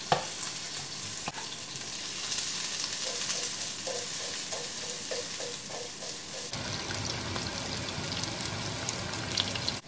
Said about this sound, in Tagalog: Isunod natin yung sibuyas mga Lodi dahil golden brown na siya.